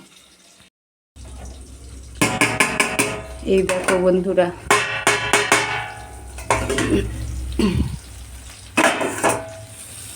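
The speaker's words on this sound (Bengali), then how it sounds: "বেগুন ভাজছি একদিকটা হয়ে গেছে একদিকটা উল্টাচ্ছি" Eggplant slices frying in a pan and being turned, with repeated metallic clanks and scrapes of a utensil against the pan while a voice talks.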